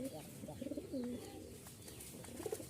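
Rajshahi Giribaz pigeons cooing close by in a few short bursts and one longer coo, with soft rustling and faint background noise between calls.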